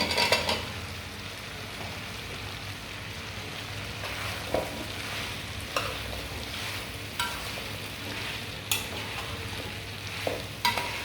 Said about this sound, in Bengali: এবার আমি জলপাইটা দিয়ে দিচ্ছি